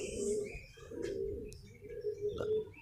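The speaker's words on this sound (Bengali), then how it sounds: "পায়রাটা পাশের বাড়ির পায়রা আমি কিনেছিলাম" A domestic racing pigeon back at its coop coos in soft, repeated rolling calls, close by, with a few faint chirps and light background noise.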